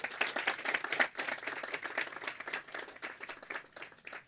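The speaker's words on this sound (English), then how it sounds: "So please give all of yourselves a round of applause" Audience applause at the University of the Virgin Islands School of Nursing groundbreaking ceremony on St. Croix: moderately quiet, fairly rhythmic hand clapping from a modest crowd, continuing steadily throughout.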